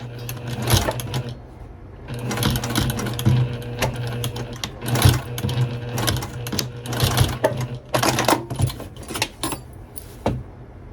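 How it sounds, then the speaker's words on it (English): A sewing machine stitches two reinforcing rows along a fabric strap, its rapid needle clatter and motor whir running in uneven bursts close by, with no voices. "I decided to sew 2 rows of stitching for reinforcement."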